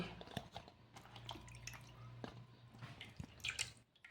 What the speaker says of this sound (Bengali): বেগুনগুলিকে আমি ভালোভাবে ধুয়ে একটা বাটিতে উঠিয়ে নিচ্ছি